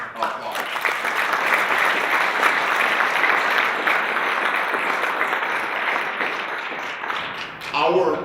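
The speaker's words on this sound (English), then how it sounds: "Please join me right now in giving them a round of applause" Sustained audience applause for the sponsors at a Kansas broadband economic development event, steady and full for about seven seconds before thinning out, with voices and a few claps at the very end.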